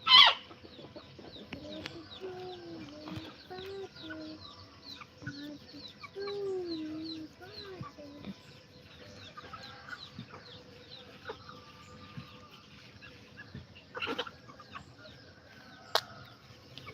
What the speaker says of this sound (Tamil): கோழி போயிரும் பாப்பா.